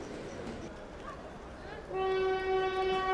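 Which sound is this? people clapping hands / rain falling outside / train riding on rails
train riding on rails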